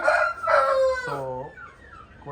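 A Yakuth aseel rooster crows nearby, a loud harmonic call repeated in quick bursts with a drawn-out final note, and no one talks over it.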